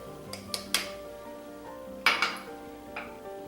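Chopped red onion being stirred into mayo and Dijon mustard in a Pyrex glass mixing bowl, with a few sharp utensil clinks against the glass and soft scraping between them, close and fairly quiet.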